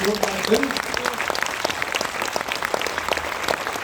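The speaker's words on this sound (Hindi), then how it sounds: "नजर पे तालियां तो बनता है यार" An audience applauds at an anniversary event for Smart Value, an Indian company marking 25 years, with steady, fairly faint clapping running under a voice throughout.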